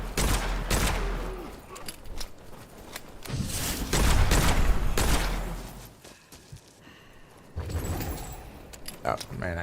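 Gunfire from the video game Witchfire: bursts of shots and mechanical reload clatter that come and go under a player's ongoing talk.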